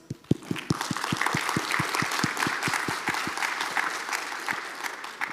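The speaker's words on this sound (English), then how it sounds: "let's give John a big round of applause" An audience applauds a speaker after a biologics development presentation, a dense patter of clapping with one pair of hands near the microphone beating a sharp, regular rhythm over the crowd.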